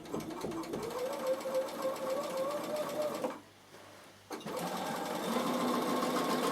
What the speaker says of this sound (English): So now I'm going to stitch a quarter of an inch.